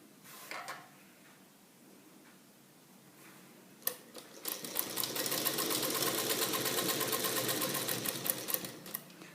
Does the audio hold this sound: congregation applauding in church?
no